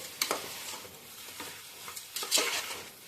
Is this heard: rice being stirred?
yes